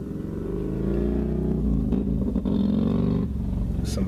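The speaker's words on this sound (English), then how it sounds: "somebody's passing by on a motorcycle." A motorcycle engine drones steadily nearby for about four seconds, a continuous low rumble with slight swells as it passes, with a voice faintly present underneath.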